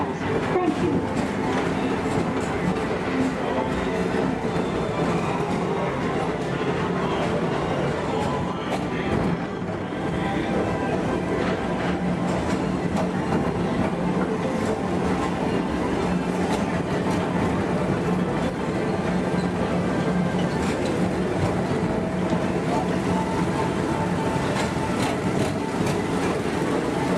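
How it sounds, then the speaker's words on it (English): Tomorrowland Transit Authority PeopleMover ride vehicles rolling along their track at Walt Disney World, a steady continuous rumble and whir with faint rhythmic clatter that carries on throughout, fairly close. "Please keep forward-facing tentacles clear of oncoming Metroliner vehicles."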